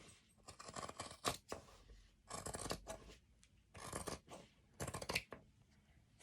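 Scissors slicing through denim while cutting up old jeans for a scrap tote, heard as several separate close crunching snips with short pauses between them, no talking.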